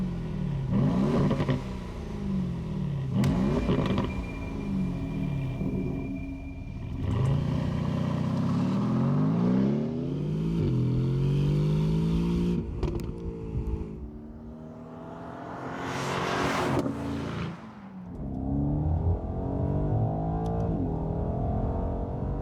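Aston Martin DB11 fitted with the Mercedes-AMG 4-litre biturbo V8, revving loud and close in a series of rising and falling bursts, each climb sweeping upward before dropping back, with no talking.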